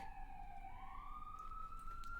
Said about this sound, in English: Siren's going to be gone in a second.